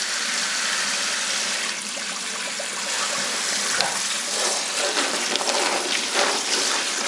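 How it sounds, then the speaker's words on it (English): Cold tap water runs steadily for several seconds to defrost shrimp, a continuous close hiss and splash with small fluctuations and no voices. "I just like to do them under cold running water for a couple of minutes."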